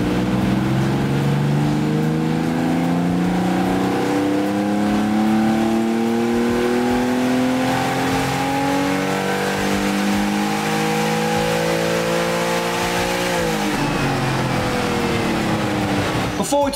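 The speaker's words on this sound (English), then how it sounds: "The K&N intake kit sounds epic. The noise is glorious." Porsche 997.1 Carrera 2 engine fitted with a K&N intake kit, revving up loudly through rising harmonic sweeps over about thirteen seconds, then dropping off sharply near the end, close and sustained with no talk.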